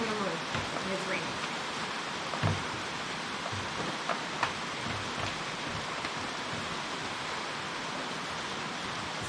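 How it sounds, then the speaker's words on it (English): Rain drums steadily on the aluminum roof of a shed, a continuous broadband hiss with scattered sharper taps, holding at an even level throughout without any clear voices. "we're in a shed with an aluminum roof and it's raining"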